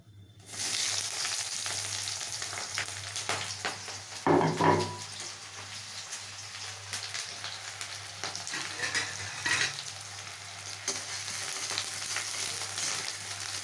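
Green chilies and onion fry in mustard oil in a kadai, giving a steady, close sizzle that carries on throughout with a few brief stirring swells and no talking.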